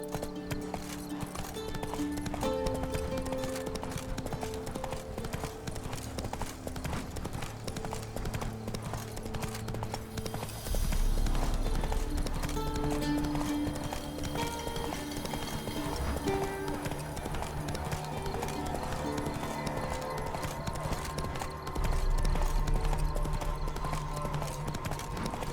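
Horse hooves gallop in The Witcher 3 in a steady, rhythmic clip-clop that runs throughout, under a musical score, with a brief whinny and swells of louder pounding along the way.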